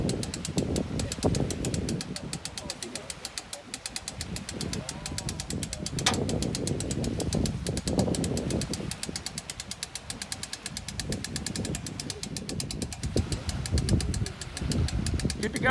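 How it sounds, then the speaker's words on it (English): A winch-assisted, gas-strutted boat loader works on an off-road Eureka camper trailer, giving a moderate mechanical whir and rapid knocking, with uneven bursts and lulls and a light ambient background. "He's going to demonstrate a new gas-strutted boat loader, winch-assisted, for a Eureka camper."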